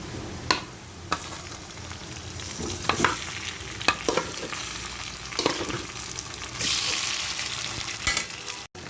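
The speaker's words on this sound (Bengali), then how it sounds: "এগুলোকে আমি এখন কিছুক্ষণ ভেজে নেব। এবারে দিয়ে দিচ্ছি মাংসগুলো।" Meat frying in a spice mixture for Chittagong-style kala bhuna, a close sizzle punctuated by regular scrapes and knocks of a spoon against the pan.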